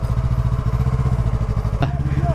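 A motorcycle engine runs close by with a steady, throbbing idle-like pulse, heading into a river, and a sharp clatter near the end lies over the rumble.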